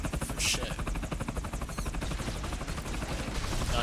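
A helicopter in the James Bond 007: From Russia with Love video game gives a loud, continuous rapid rotor chop that fills the whole stretch, with gunfire crackling through it.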